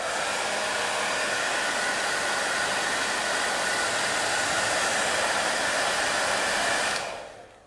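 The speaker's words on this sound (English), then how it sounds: "So once again, here comes a dryer." A hair dryer roars with a steady, loud broadband whoosh for about seven seconds while drying watercolor paint, then cuts off and fades quickly.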